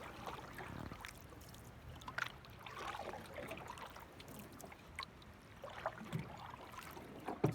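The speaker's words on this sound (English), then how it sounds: "dip my paddle all the way in the water, pull it back just to where I'm sitting" Canoe paddle forward strokes in lake water, with soft recurring dips and swishes over a gentle, faint watery background, paddled alone without speech.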